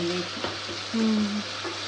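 Tomatoes stirred and mashed in a hot pan for fish kulambu, giving a close, steady sizzle with soft scraping and squelching movements.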